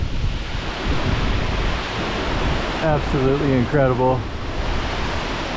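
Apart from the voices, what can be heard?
Yosemite waterfall, North America's largest single drop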